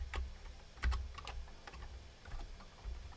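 Fast, uneven keystrokes on a computer keyboard during a live Perl programming session, close and clear, with a few heavier thumps like the space or enter key and no talking.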